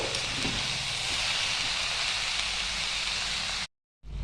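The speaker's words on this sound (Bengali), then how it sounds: "বাঁধাকপিগুলো দিয়ে ভালো করে নাড়াচাড়া করে আমি 5 থেকে 7 মিনিট ঢাকা দিয়ে ভালো করে কুক হতে দেব।" Cabbage cooking in a covered pan gives off a steady, loud sizzling hiss that continues unbroken and then cuts off abruptly near the end.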